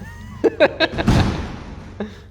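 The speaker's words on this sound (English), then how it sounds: "close the door first" A few short voiced sounds and a chuckle, then a door shuts with a solid thud that fades into a brief rumble.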